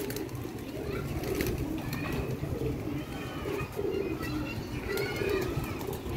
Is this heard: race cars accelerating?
no